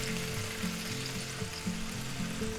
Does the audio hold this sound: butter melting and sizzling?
yes